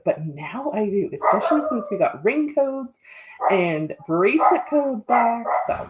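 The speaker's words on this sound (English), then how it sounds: "that's my dog barking" A small old dog barks repeatedly in the background, mostly buried under continuous close talking from a person.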